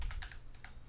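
Typing on a computer keyboard during a Linux Mint install, a few quick clustered keystrokes close up, with no voices.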